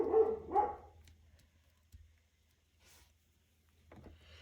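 Two quick barks from a dog nearby at the start, then near silence with faint low hum and a soft distant noise.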